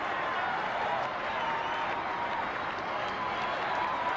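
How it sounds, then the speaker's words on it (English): Stadium crowd at a 1980 Vikings vs Saints football game roaring after a touchdown, a steady, distant wash of cheering and scattered clapping that holds at an even level throughout. "And listen to the crowd."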